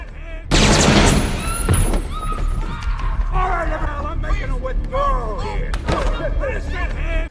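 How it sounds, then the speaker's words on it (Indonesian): Sharp gunfire bursts ring out as warning shots in a bank robbery movie scene from The Dark Knight, a loud volley at the start followed by busy voices, shouting and further bangs. "memberikan tembakan peringatan kepada semua orang di dalam, termasuk para pegawai bank"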